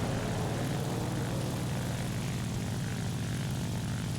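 A7M1 (NK9H) propeller fighter engine in War Thunder with its oil overheating, a loud continuous droning roar with a steady low throb, unbroken and unaccompanied by voices.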